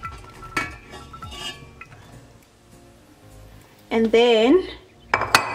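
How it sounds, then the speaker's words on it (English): Carrots and onion hit hot oil in a pot for lentil soup, bringing a brief loud burst of sizzling and clattering after a short spoken phrase, with pot and utensil clinks around it. "I'm gonna add in the carrots and the onion"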